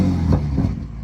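A BMW M235i with an aftermarket exhaust fires up in a short burst, a deep rumbling low growl that swells and then settles toward idle.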